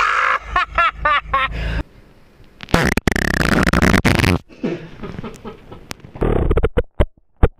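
A fart recorded with a microphone held between the buttocks, a loud raspy burst, close and distorted, followed by snickering laughter and a few sharp clicks.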